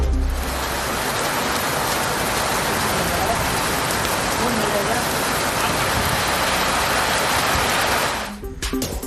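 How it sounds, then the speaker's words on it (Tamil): Heavy rain pours in the Chengalpattu district, a loud dense roaring hiss that continues steadily for several seconds before suddenly dropping away near the end. "செங்கல்பட்டு மாவட்டத்தில் பல்வேறு பகுதிகளில் 1 மணி நேரத்திற்கு மேலாக நீடித்த கனமழை."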